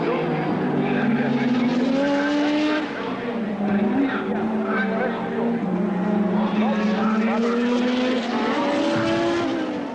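1986 Formula One turbo cars with Cosworth V6 turbo engines scream around the track during qualifying, a continuous loud high-revving engine note with shifting pitch as cars pass, with no pauses.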